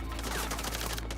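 Gunfire in the game Red Dead Redemption 2, a rapid run of dense shots blending into a steady crackling volley, moderately loud with no talk over it.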